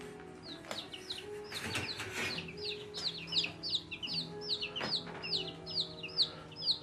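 Chickens cluck and chirp in a busy, irregular series of short calls at a farm, fairly close and moderately loud, with a steady low background hum underneath.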